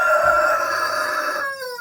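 Backyard flock of hens and roosters, with a rooster crowing loudly and close by in a long sustained call that breaks off near the end.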